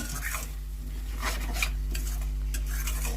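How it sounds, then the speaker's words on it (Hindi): Garlic and fenugreek masala being stirred in a pan, with a steady soft scraping of a spoon against metal and a faint sizzle underneath, close and continuous with no talking. "देखिए इस तरह से चलाते हुए इसे अच्छी तरह से भून लेना है"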